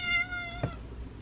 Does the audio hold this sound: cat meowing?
yes